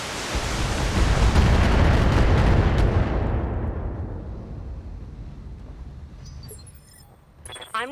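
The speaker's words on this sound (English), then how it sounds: "MRM launchers." Volley of MRM missile launchers firing in the BattleTech game, a loud dense roaring rush that swells for a few seconds then fades into a long decaying rumble, with faint clicks near the end.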